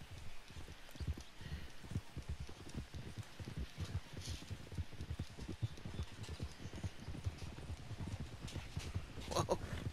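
Horse hooves in a video game, a steady rapid clip-clop of a galloping mount, rhythmic and fairly faint, with the beats running evenly through the whole stretch.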